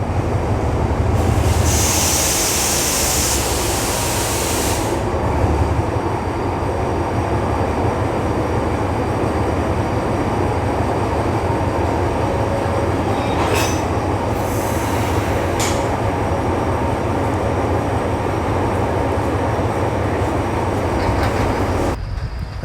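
Train cars coupling at Thanaleng station in Laos to form train 484, with a loud continuous rumble of rolling railcars, brief high squeals and a couple of sharp metallic clanks partway through.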